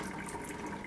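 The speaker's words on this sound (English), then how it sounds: "I'm just going to open this slightly so I can drain that water out." Water from a jar of green olives, drained through a slightly opened lid, gives a steady close trickle and gush that runs without a break, with no talking.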